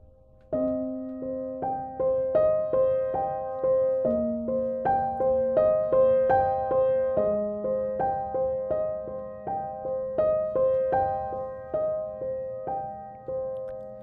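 An easy beginner piano melody played at a quicker tempo, with steady repeated notes over sustained low bass tones, close and clear with no talking.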